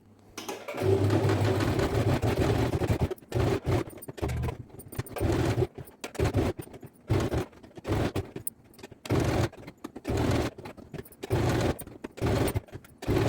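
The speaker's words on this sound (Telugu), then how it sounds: "దీని మీద మనము స్టిచ్ అయితే వేసుకోవాలి" A sewing machine stitches a pattern blouse, its motor running in close, loud bursts of rapid needle clatter, some long and some short, with brief pauses between runs.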